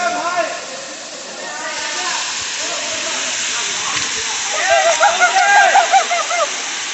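Water pours and splashes at Tada Falls on a forest trek, a steady, loud, broadband rush filling the whole stretch. People talk over the roar toward the end.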